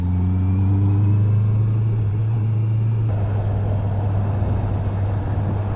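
Honda CB650R motorcycle engine droning steadily while riding, a strong low hum with engine harmonics that shift in pitch partway through as the bike changes speed, continuous and close throughout.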